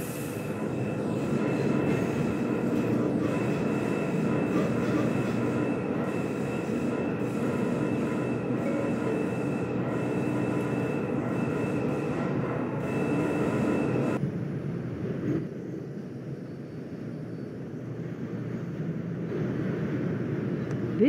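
An R142 New York subway train runs on the 5 line in the Bronx, giving a steady loud rumble and whine of motors and wheels on track that drops to a quieter, smoother roll partway through, with no talk.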